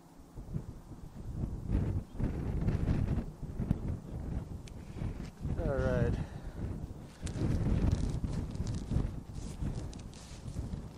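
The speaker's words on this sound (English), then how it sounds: "Another quick 360 with the noise of the wind" Gusty wind buffets the microphone in rolling surges on a mountain summit, with a person briefly speaking partway through.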